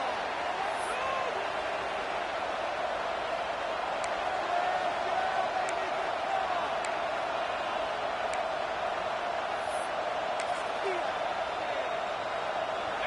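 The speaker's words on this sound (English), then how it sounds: "This crowd still bringing the intensity to open the second half." Steady stadium crowd roar from the NCAA Football 26 college football video game, a dense continuous wash of noise opening the second half with faint scattered shouts, no talk over it.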